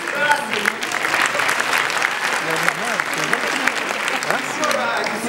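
A theatre audience at a performance of the play Chasy s kukushkoy applauds steadily and loudly throughout, with a voice talking over the clapping.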